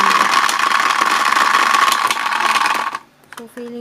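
A noisy toy washing machine cleaning makeup tools runs with a steady buzzing, rattling whir, then cuts out near the end, leaving a few small clicks and knocks.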